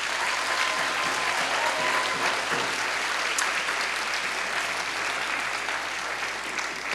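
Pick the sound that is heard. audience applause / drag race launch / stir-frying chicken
audience applause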